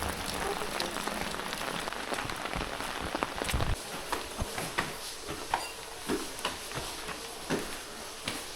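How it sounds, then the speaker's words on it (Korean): Heavy rain falling steadily at a forest recreation area in summer, a dense continuous patter with occasional louder drops and ticks standing out near the mic, no talking. "비가 너무 많이 오네요."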